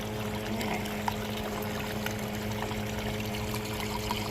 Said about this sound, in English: that little thing there adjusts the amount of water coming over the sluice and what's being pumped up